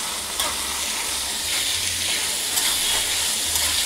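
Masala mix for a brinjal bhaji being fried and stirred in a pan, browning until evenly combined; a loud, steady sizzle fills the whole stretch, with occasional scraping strokes from the stirring.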